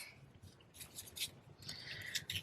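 Scissors snip through ribbon or string on a fold-out card craft, a few close, quiet crisp cuts and rustles with no talking.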